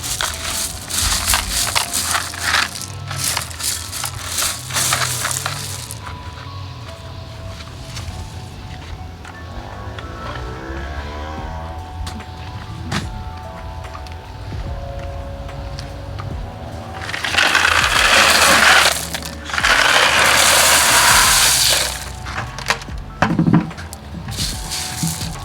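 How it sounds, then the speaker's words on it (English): Gravel is spread for a vanda bed, with crunching, scraping and rattling of stones against each other, including two louder, sustained pouring rushes near the end. "You want to spread your gravel."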